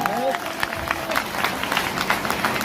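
A seminar audience at an RCM business event claps in scattered, uneven bursts while a voice carries on speaking over the applause.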